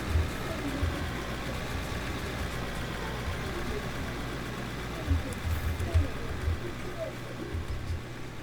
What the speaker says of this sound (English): I've never realized how much I've missed the sound of a diesel engine.